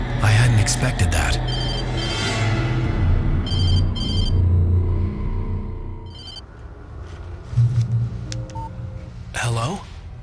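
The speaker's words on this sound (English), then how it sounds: "She was startled by the phone." Telephone ringing inside the video game Alan Wake, with repeated electronic ring bursts and dial-like tones rising over a rumbling ambient game soundtrack before a voice cuts in near the end.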